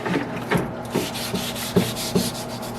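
Scotch-Brite pad scrubbing an aluminum cam cover, a close rough rubbing sound in quick back-and-forth strokes, roughly one every half second, with no talk over it.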